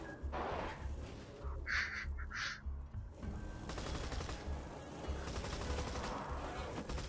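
Rapid bursts of gunfire crackle in the game Borderlands 2, repeated volleys with bird-like squawks, fairly faint and without voices.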